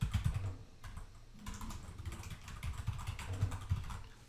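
Fast typing on a computer keyboard, close and moderately quiet, with clustered key clicks and brief pauses over a low background rumble.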